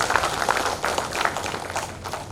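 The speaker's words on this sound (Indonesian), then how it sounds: "Tepuk tangan untuk Aptis" Audience applause at the opening of a national seminar, a dense crowd clapping steadily at moderate distance, fading slightly toward the end.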